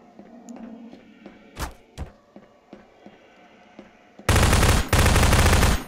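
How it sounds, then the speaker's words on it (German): Gunfire rips through a Garry's Mod video game in a dark house, near and loud in two sustained automatic bursts with a short gap between them, after scattered thuds and clicks in a quiet room. "Ich höre dich schießen."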